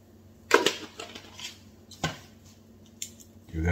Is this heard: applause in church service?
no